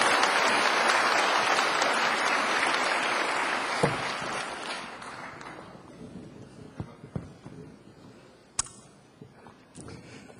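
Audience applause at a peace speech rings out loud and steady for about five seconds, then thins to scattered individual claps and faint room noise.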